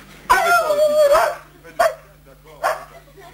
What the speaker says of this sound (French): C'est un chien d'attaque.